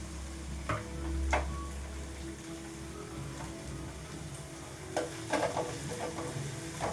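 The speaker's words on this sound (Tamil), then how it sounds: "வெங்காயம் நல்லா வதங்கிக்கிட்டு இருக்கு" Onions sautéing in a pan give off a steady low sizzle. Occasional stirring clicks and scrapes come through, and a brief low thump is heard near the start.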